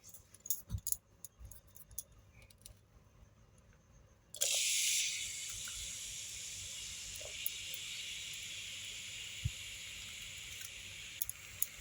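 Chopped onion tipped into hot oil with lightly fried garlic while making street-style veg momos: a few soft clatters, then a sudden bright sizzle that stays steady and fairly faint, with occasional small knocks.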